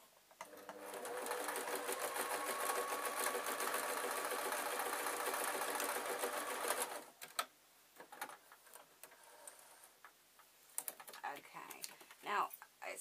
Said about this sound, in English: Yeah, I'm sewing up my 1/4 foot. And then I'm sewing up the side.